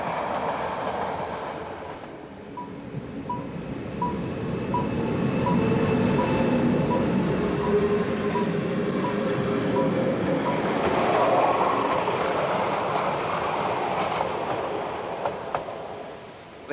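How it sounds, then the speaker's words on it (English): A Swiss train rumbles along the rails at close range arriving at Interlaken East station, a steady low roar with faint rhythmic clicking and a few metallic squeals, swelling and fading. "The Swiss train has arrived at the Interlaken East station."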